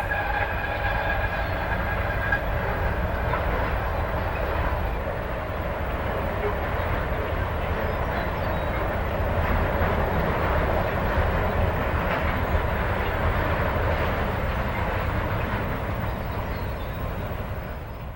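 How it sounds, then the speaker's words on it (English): A Santa Fe eastbound train rolls across the trestle at Media, a steady loud rumble of railcars and wheels sustained throughout with faint clickety-clack and no voices. "an eastbound soon crosses the trestle"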